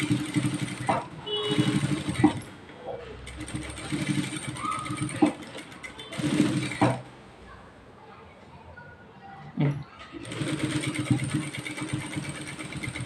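A sewing machine stitches along existing thread on a blouse, its motor whirring in several bursts separated by pauses, with talk heard over the stitching.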